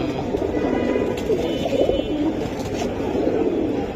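A flock of silver giribaz pigeons keeps up a constant low cooing chorus, many birds close by, with faint scattered clicks over the steady burbling.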